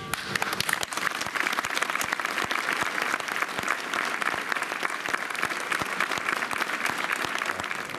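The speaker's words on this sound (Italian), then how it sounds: "Un lungo e commovente applauso saluta il feretro all'uscita dalla chiesa." Long applause from mourners at a funeral as the coffin leaves the church, a continuous rattle of many hands clapping, steady and moderately loud throughout.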